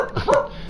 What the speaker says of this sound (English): Oh, that's my dog barking.